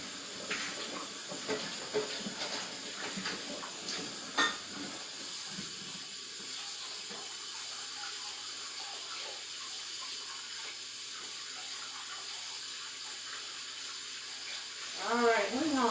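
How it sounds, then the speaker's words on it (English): A pan being washed in a kitchen sink: running tap water hisses steadily throughout, with clanks and scrubbing early on and a brief knock, while a voice speaks faintly near the end. "let's get the pan washed up here"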